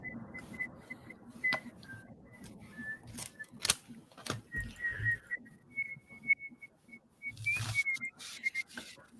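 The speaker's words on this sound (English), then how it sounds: "Y'all, I whistle when I'm thinking." A person whistles a wandering, quiet tune in short phrases, with faint clicks and rustling between notes.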